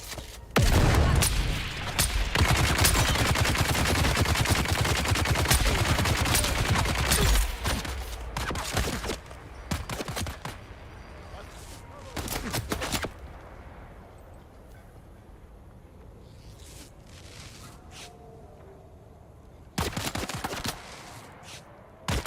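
Gunfire in the Dune video game: dense, loud bursts of rapid shots and blasts in the first half, then fading to scattered, quieter shots with a final flurry near the end.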